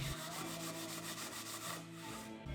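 Hand sanding on a wooden coffee table, a steady dry rubbing of abrasive paper over wood that runs continuously at low volume with a faint background hum.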